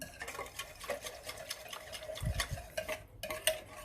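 A packet of dry yeast is stirred into liquid in a bowl for pastry-shop poğaça dough, a soft swishing with light, regular utensil clicks, close and quiet.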